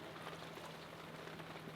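Steady rain falls on a cold, chilly day in Alaska, a dense, even patter with a faint low hum running beneath it and no voices.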